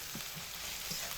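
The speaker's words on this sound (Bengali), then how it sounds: "রসুন, পেঁয়াজ, কাঁচা লঙ্কা একসঙ্গে 1 থেকে 2 মিনিট সময় ধরে হালকা আঁচে লাল লাল করে ভেজে নিচ্ছি।" Garlic, onion and green chilli frying together in oil over low heat, a soft even sizzle heard close and faint for a brief moment with no other sounds.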